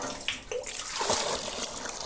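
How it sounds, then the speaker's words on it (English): Water splashing and pouring as it is drawn from a village well, a brief, close burst of liquid sound that rises and settles over about two seconds. "He's bringing water from the well."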